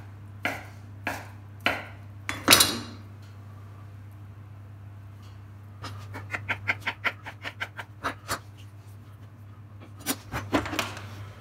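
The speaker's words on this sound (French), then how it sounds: "je vais couper mes mozza. Je vais couper des tranches comme ceci." A knife cuts mozzarella into slices on a board for a piperade pizza, sharp chopping taps in short bursts separated by pauses, close over a steady low hum.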